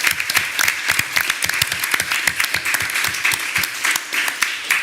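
Scattered applause at a school board meeting for the superintendent and staff, sparse individual claps close by with a distinct uneven rhythm, steady for several seconds.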